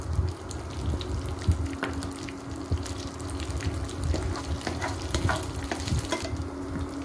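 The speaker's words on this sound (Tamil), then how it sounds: "உளுத்தம் பருப்பு, இது எல்லாத்தையும் போட்டு நல்லா வறுத்துக்கணும்." Urad dal and other lentils roast with dried chillies in a pan, a close, crackling sizzle with frequent scraping stirs and small clicks running steadily for several seconds, no one speaking.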